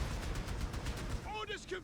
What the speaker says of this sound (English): AT guns continuing to barrage that building